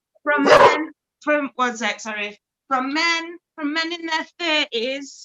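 A dog barks several times in quick, loud, close bursts with brief gaps between them, while a person speaks over the barking.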